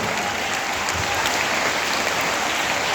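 Audience applause fills a school hall at a Kargil Vijay Diwas event, a steady, dense wash of many hands clapping continuously and loudly throughout.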